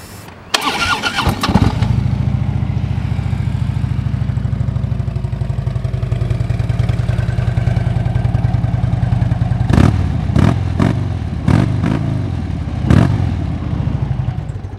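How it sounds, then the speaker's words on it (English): 2013 Harley-Davidson Road Glide cranks briefly and fires, then settles into a loud, close, lumpy idle with a steady throbbing pulse, broken by a few sharp throttle blips near the end. "Let me fire it up."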